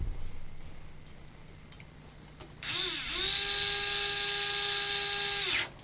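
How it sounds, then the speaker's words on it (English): A small power driver whirs steadily for about three seconds as a bolt is driven into a Tarot Iron Man quadcopter frame, a close high-pitched whine that spins up and cuts off cleanly after a quiet start. "I'm sure you understand what I'm doing when I'm screwing a bolt in"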